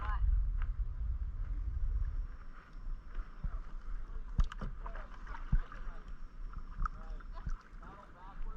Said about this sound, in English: Paddle backwards on your right side.